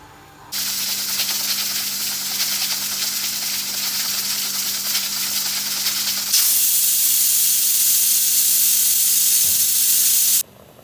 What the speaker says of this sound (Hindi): अब इसको ढक के रख दें जब तक कि इसका पहला उबाल आ जाए